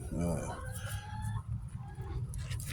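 Hens in a garden cluck and squawk in a burst at the start, followed by softer clucking over a steady low background hum.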